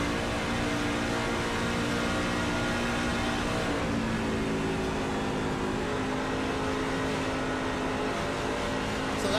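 A race car engine heard from the cockpit in a Charlotte racing video game, droning loudly and continuously with shifting harmonic tones as revs rise and fall around a clutch dump.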